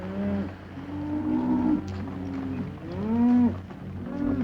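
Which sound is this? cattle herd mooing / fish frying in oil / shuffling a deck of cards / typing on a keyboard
cattle herd mooing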